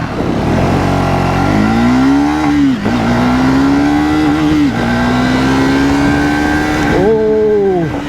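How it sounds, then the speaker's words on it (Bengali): A 2024 Triumph Speed 400 motorcycle accelerates hard in an acceleration test, its engine note rising loudly through several gears with brief dips at each shift, close and dominant. "সো অ্যাক্সেলারেশন টেস্টটাও করে নেওয়া যাক"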